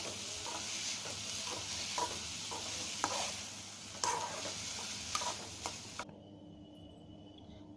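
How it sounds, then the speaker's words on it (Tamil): Snake gourd and grated coconut stir-fried in a pan for a kootu: continuous sizzling with repeated sharp spoon scrapes and taps at irregular intervals, close up, no voices, ending abruptly. "இப்போ தேங்காய் பூ போட்டு ரெண்டு பரட்டை பரட்டி இறக்கிடலாம்."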